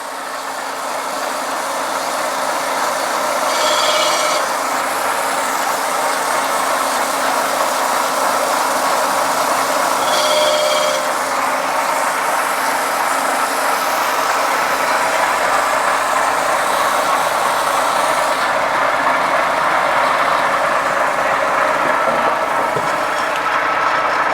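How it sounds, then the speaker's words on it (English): A crankshaft grinding machine grinds a crank journal in a workshop, giving a steady loud whirring grind with a mechanical hum throughout, plus brief higher-pitched metallic squeals now and then, with no talk. "You don't want to grind a crank more than you necessarily have to"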